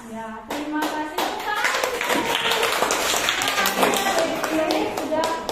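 A class of children claps out the tepuk PPK chant, a series of sharp, rhythmic hand claps in patterned bursts, mixed with their chanting voices and a teacher speaking nearby.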